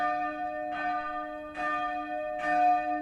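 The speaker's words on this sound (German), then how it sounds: "Das Glockengeläute, das hat einen bestimmten Ton gehabt." Church bells of the village of Blatten ring out, three broad tolls roughly 0.8 seconds apart, each a bright metallic strike over a steady sustained hum of overlapping bell tones, clear and fairly close.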